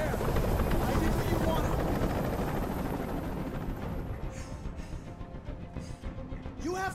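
A helicopter hovers overhead in the video game Detroit: Become Human, a loud continuous rotor roar and rumble that fills the scene, easing slightly toward the end as a few faint sounds cut in.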